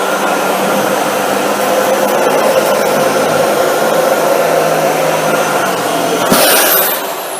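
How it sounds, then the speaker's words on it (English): A Dyson Ball Multi-Floor full-size upright vacuum cleaner runs with a steady, loud motor whine and airflow roar, holding constant before a brief surge near the end. "Let me just throw in the Dyson Ball Multi-Floor, this full-size upright here."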